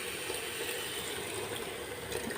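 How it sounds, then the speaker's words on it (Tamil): Water is poured into a mixer jar holding leftover masala for a mushroom biryani: a soft, steady trickling wash that runs continuously at low level, with no talking. "அதில் கொஞ்சம் தண்ணி ஊற்றி ஒரு 1/2 டம்ளர் தண்ணி மட்டும்"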